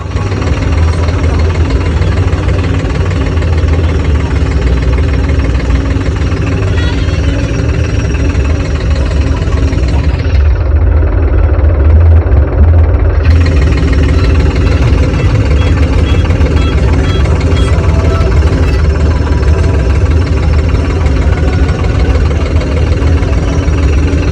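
A Farmtrac 770 tractor engine idles close by, a loud steady low chugging rumble that continues unbroken throughout, with no talking.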